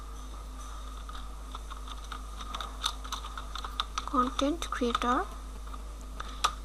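Computer keyboard keys clatter in quick irregular bursts, close and moderately loud, while someone speaks over much of the typing.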